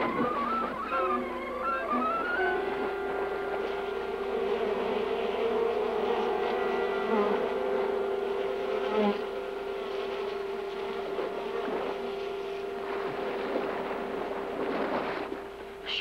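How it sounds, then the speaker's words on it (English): An angry swarm of bees buzzes in a dramatic scene from a Disney show, a sustained droning hum that swells and wavers for the full stretch, mixed with tonal background sound. "Must have been northern bees come down from the Dakotas for hiving."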